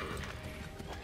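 A brief, muffled patter of horse hooves clip-clopping under steady background noise in the video game Assassin's Creed III.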